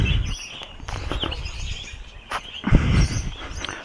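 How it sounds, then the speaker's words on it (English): Finches and canaries call in a bird shop, their short chirps and tweets scattered across a busy, slightly noisy indoor background with occasional louder bursts. "Canaries. All types of different finches."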